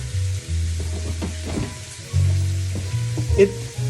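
Chili verde frying in a pan on a stovetop, a steady close sizzle running throughout with a few brief louder crackles and pops, no talking.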